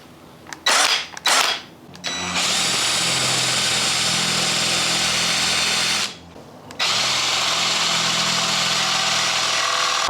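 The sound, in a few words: power drill with hole saw, practice run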